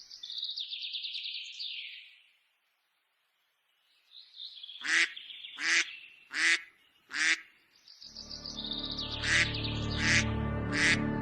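Cartoon ducks quack and squawk. A few calls come first, then a pause, then four sharp quacks in a row, then more chirping calls over a rising musical backdrop.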